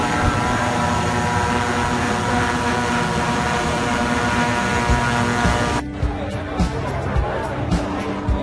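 A heavy-lift drone carrying a 2–3 kg laser scanner, its motors and propellers droning loudly and steadily up close, the dense buzz holding constant before thinning out near the end.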